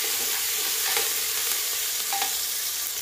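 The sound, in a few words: frying onion, chillies, peanuts and curry leaves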